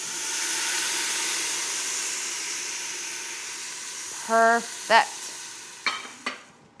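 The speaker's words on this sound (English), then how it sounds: "while they're slowly sauteing, I'm gonna add in just a little tiny bit of beef broth" Celery, onion and carrots sauteing in a pan with a splash of beef broth, giving a steady close sizzle and hiss that softens over time, with a few short clinks and a brief spoken word near the end.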